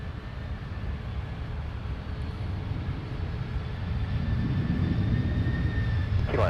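A UPS Boeing 767-300ERF cargo jet arrives at Minneapolis–Saint Paul airport from Louisville, its engines a broad continuous roar that builds gradually as it nears.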